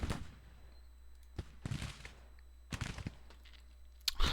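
Civil War-era cannon artillery in a strategy game, scattered distant booms at irregular intervals, short muffled reports over a low steady hum, fairly quiet.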